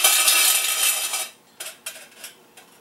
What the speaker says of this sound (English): See, two coins sounds like this.